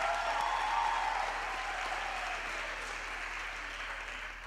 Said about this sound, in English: Another round of applause for the choir,